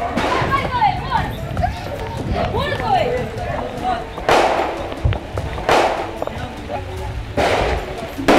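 Exchange of gunfire between police and criminals during a raid in Amazonas, Brazil, with several sharp, loud shots at irregular intervals over shouting voices and background commotion.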